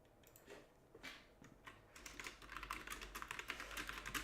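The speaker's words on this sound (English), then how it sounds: "if anybody can hear me typing, apologies" Computer keyboard typing at a home desk: quiet, irregular clicks and key taps, sparse at first and then a faster, denser run of keystrokes, with no talking.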